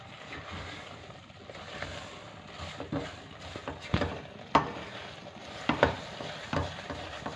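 Chana dal being dry-roasted for panjiri in a pan over a low flame, with soft stirring and scraping and occasional sharper clinks of the spoon against the pan, close and fairly quiet.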